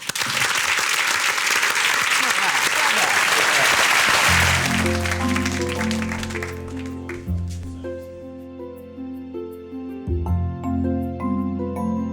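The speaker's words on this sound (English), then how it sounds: "Round of applause, please, for Atul." A studio audience at a cooking show claps, loud dense applause that fades as sustained musical tones enter and carry on to the end.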